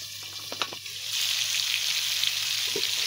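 Pointed gourd (potol) with salt and turmeric frying under a lid in a pan, with a few soft knocks first and then a steady, loud hiss of sizzling oil.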